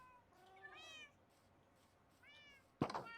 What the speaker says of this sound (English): And then there's another 4 cats outside.